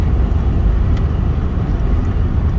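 Steady low rumble of a stock 1991 Honda Accord engine running on E88 fuel with road noise while driving, continuous and fairly loud, no voices.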